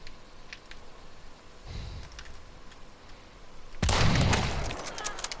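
Two gunshots ring out in Hunt: Showdown: a muffled first report, then a louder, sharper second blast about two seconds later, over a quiet background.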